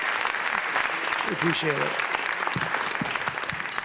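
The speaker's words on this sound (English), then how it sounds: "Please give them a round of applause" Audience applause at a community jazz band concert, steady clapping throughout with someone speaking briefly over it.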